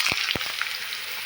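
Chayote squash fries in a pan with black mustard seeds and curry leaves, giving a brief, bright, steady sizzle with a couple of soft thuds at the start.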